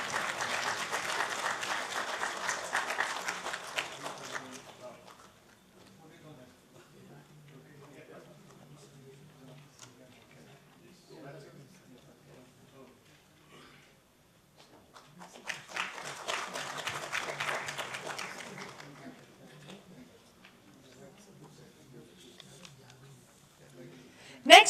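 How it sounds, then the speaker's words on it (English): An audience applauds award winners at the MSME-CCII National Business Excellence Awards at Vigyan Bhavan, New Delhi. Two bursts of hall-filling clapping, each lasting several seconds, are separated by a stretch of quieter announcer speech. "Can we have a huge round of applause?"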